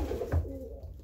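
Young racing pigeons coo softly nearby, a short low murmuring call that fades out within a second, no talk over it.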